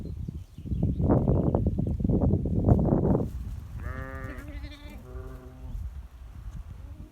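Sheep and lambs bleat in a pen during lambing season, a rough rustling, shuffling din of livestock followed by several clear, wavering bleats at close range.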